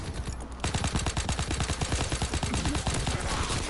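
Rapid automatic gunfire in the Call of Duty WWII beta, a loud, steady stream of close shots rattling without pause and with no speech over it.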